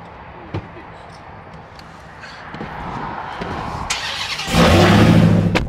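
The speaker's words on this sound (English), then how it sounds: "Oh, this thing sounds crazy. Yeah, that exhaust is nuts." A Ram TRX pickup truck engine rumbles nearby, rising in level and growing into a loud, deep exhaust roar toward the end, with brief voices over it.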